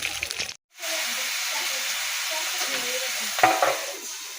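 Food frying in a pan and being flipped, a steady sizzle that follows a brief silent break, with a louder scrape and spatter near the end.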